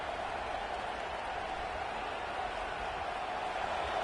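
Steady, dense roar of a packed stadium crowd in a college football video game, Oregon against Washington, a loud continuous wash of noise holding level throughout with no distinct cheers or voices standing out.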